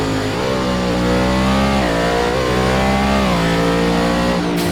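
A car driven in the Roblox Driving Empire game: a loud, close engine note that revs up and shifts through gears in several rising sweeps, with a brief tire squeal and no talking.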